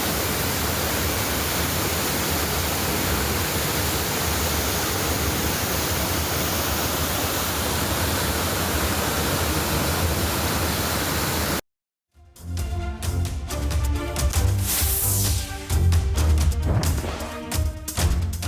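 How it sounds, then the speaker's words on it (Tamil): Roaring waterfall at Courtallam swollen by floodwater after heavy rain, a dense, steady broadband rush that fills the first half, then a brief cut to other loud, shifting sounds. "கொட்டும் அருவியில் இருந்து தெரித்த சாரல் மனதிற்கு இதமூட்டும் வகையில் இருந்தது."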